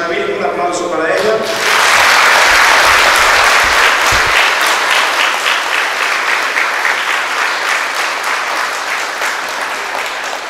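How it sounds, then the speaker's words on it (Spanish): After brief singing or speech, a church congregation bursts into loud, dense applause at a fifteenth-anniversary feast for the Virgin of Juquila, and the clapping gradually thins out. "Felicitamos a la Santísima Virgen, un aplauso para ella."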